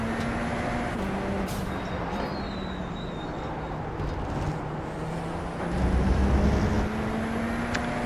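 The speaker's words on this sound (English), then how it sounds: "Turbo sounds, supercharger sounds." Radical SR10 race car in the iRacing simulator at Road America, a steady engine drone with turbo and supercharger whine, a tone rising and falling with gear changes, continuous and loud throughout with a slight surge near the end.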